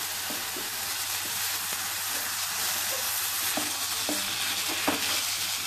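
Carrot halwa being stirred in a pan, a continuous dense sizzle with soft scraping strokes of the spoon against the bottom, close and steady with no talking.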